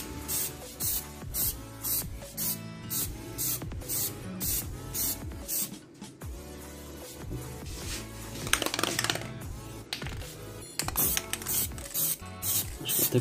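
A spray paint can hisses in a steady run of short, evenly spaced bursts while car audio parts are being painted, close and fairly quiet, with no voices.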